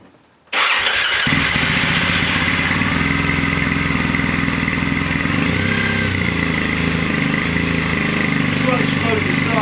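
A Triumph Bonneville motorcycle fitted with a TEC 2-1 stainless exhaust fires up after a brief quiet moment and settles into a loud, steady, throbbing idle close by.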